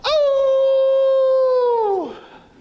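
A man on stage during a Toastmasters speech contest imitates a howl with his voice, holding one loud, steady note for about two seconds before it slides down and breaks off.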